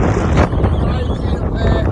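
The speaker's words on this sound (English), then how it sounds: "Oh, it's windy." Strong wind gusting across an exposed coastal hike near Rockcliffe, roaring and buffeting the microphone continuously throughout, loud and close with no clear speech.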